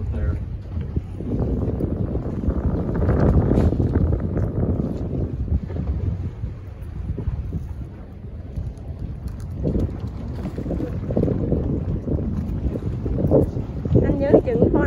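A glass bottom boat cruises over shallow water past a sunken barge, its steady engine rumble and water wash joined by wind buffeting the microphone, with a voice talking over it throughout.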